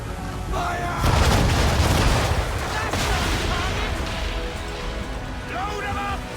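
A volley of cannon and gunfire in the naval battle game Assassin's Creed III, with heavy booming blasts and crackling shots layered densely and loudly, and brief shouted voices over the barrage.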